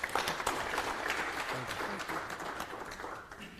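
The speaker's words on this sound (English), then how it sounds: "Another hand of applause." Conference audience clapping together in a hall, a dense, fairly faint wash of applause that fades slightly toward the end.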